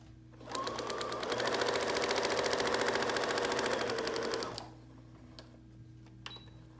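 A sewing machine stitches through paper in one steady, fast-running burst of about four seconds, close and fairly loud, then stops, leaving a quiet room with faint ticks.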